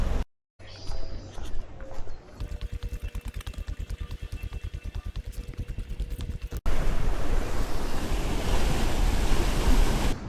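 Sea waves wash along the rocky coastal path at Saint-Jean-Cap-Ferrat, a steady surf roar mixed with wind buffeting the microphone, growing louder and fuller in the second half.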